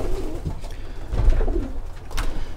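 Pigeons cooing inside a coop, a hen among them: soft, low, throaty repeated coos up close over a faint background rumble, with no talk.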